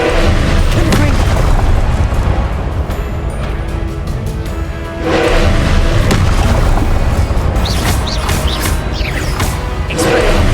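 Spell blasts from Confringo in Hogwarts Legacy go off as heavy booming bursts, loud and dense, two main surges with crackling debris, layered over continuous combat noise.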